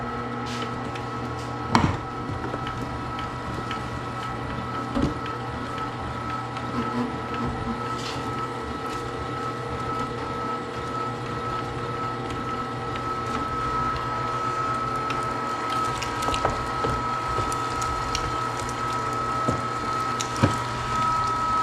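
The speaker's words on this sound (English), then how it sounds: "let's grind up our first grind for 25 pounds of sweet Italian sausage" A meat grinder runs steadily, grinding cold pork for a 25-pound batch of sweet Italian sausage, a continuous motor drone with faint knocks and crackles from the meat passing through.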